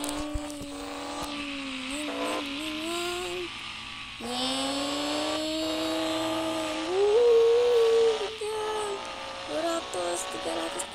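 A synthetic Kawasaki Z800 motorcycle engine in the bus simulator game BUSSID whines and revs up and down in pitch, rising sharply at times, with a voice talking underneath.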